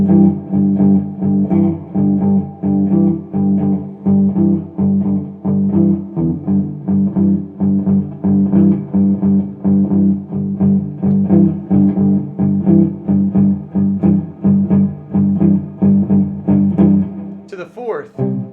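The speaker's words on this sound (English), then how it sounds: "we're going to start the shuffle in G." Electric guitar playing a 12-bar blues shuffle in G with a steady chugging rhythm, moving through the first, fourth and fifth chords, loud and close throughout with a brief sharp noise at the very end.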